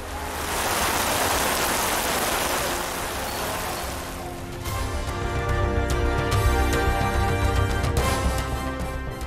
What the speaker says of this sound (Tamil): மதுரையில் வெளுத்து வாங்கிய மழையால் சாலைகளில் நீர் பெருக்கெடுப்பு.